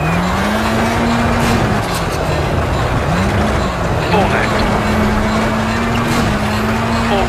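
Rally car engine from the PS2 game WRC Rally Evolved, loud and continuous, rising in pitch through repeated gear shifts with brief dips between each climb.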